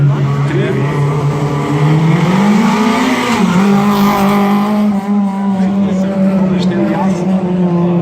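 A Renault Clio Williams rally car screams toward the stage finish at a Vipava Valley rally near Ajdovščina, its high engine note climbing and holding steady, loud and close, while a commentator talks over it.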